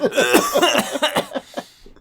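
Rapid, rough coughing sputters up close in a fast string of bursts that gradually trail off.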